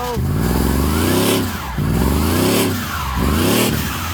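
Supercharged work van engine revving hard in three long surging bursts, each climbing in pitch and then dropping back, loud and close, with brief dips between pulls.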